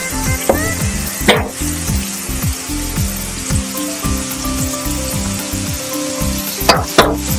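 Chopped tomato fries loudly in a pan for chicken nawabi, a dense continuous sizzle with a couple of sharp spatters and clatters.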